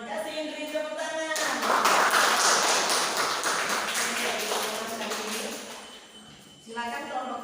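An audience at a school group presentation claps together in a dense burst of applause that swells and then fades over several seconds, with people talking before and after.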